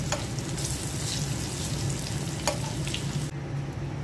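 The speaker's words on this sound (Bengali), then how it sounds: "আলুর চপও ভেজে নিচ্ছি" Steady, dense sizzling of potato chops frying in hot oil, close and continuous, with a couple of faint clicks and no talking.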